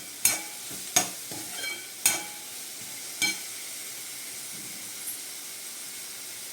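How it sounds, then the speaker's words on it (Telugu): Sandwich filling frying on a slow flame gives a soft, constant sizzle, broken by a few sharp stirring scrapes and taps near the start and one later, close by and with no talking. "స్లో ఫ్లేమ్ మీద ఒక 10 to 15 మినిట్స్ దీన్ని ఫ్రై చేసుకోవాలి"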